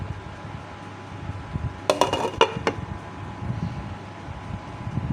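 A lid being set on a cooking pot of fish paksiw, with a brief cluster of metallic clanks and rattles mid-way over a low background hum, no talking.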